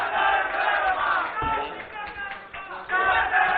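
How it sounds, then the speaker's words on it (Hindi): Audience at a Hindi public dialogue event on illegal sand mining in the Narmada cheering and applauding for an MLA, loud crowd noise with shouts and chatter, slightly muffled and sustained throughout. "एक बार जोरदार तालियां"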